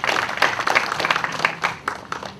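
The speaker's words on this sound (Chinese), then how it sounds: "掌声欢迎杨校长。" An audience at a women's university basketball invitational in the Kaohsiung Arena applauds to welcome the university president, a lively patter of many hands clapping close by throughout.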